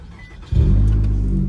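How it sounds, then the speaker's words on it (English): A high-mileage Nissan Altima with about 236,000 miles cranks and catches after a quiet half-second, then settles into a strong, steady low idle rumble close by. "Okay, Bluetooth is off now, so we can start the car."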